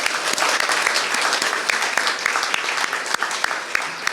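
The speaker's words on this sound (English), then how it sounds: "Let's give another round of applause for her." A bar crowd at a live music night in a brewing company applauds continuously, a dense full wash of clapping with a few sharper individual claps standing out, held steady throughout.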